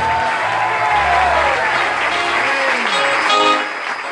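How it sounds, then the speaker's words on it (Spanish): A congregation at an evangelistic service applauds and cheers loudly, dense clapping mixed with shouting voices and a held musical tone underneath, fading a little at the end. "Denle un aplauso fuerte con grito de gloria a Dios por ello"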